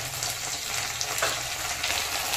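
Ginger garlic paste sizzles in a pan with pumpkin and potato, a brief steady close frying hiss with light stirring scrapes.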